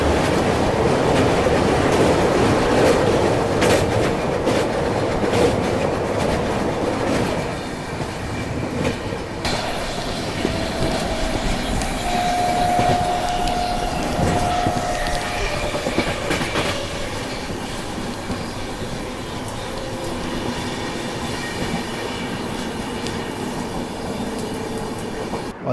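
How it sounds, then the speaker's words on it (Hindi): The Golden Temple Mail, bound from Amritsar to Mumbai, rushes past at a crossing. The loud, steady roar of its passing carriages carries rhythmic wheel clatter and a brief metallic squeal, then gradually fades. "और ये है गोल्डन टेम्पल मेल। ओवरटेक ना सही पर क्रॉसिंग तो मिल गई।"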